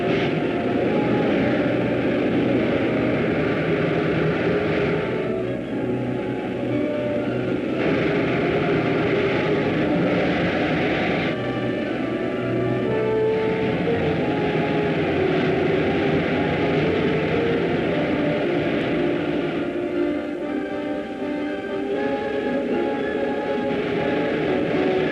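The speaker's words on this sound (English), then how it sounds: "Fire main jets." Moon rocket main jets firing as a film sound effect: a loud, steady roar with a continuous engine drone that holds unbroken throughout, with no voices.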